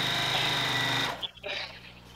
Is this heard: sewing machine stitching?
yes